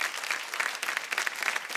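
Studio audience at a Marathi women's game show bursts into sustained applause, many hands clapping densely and loudly with rippling peaks, no voices over it.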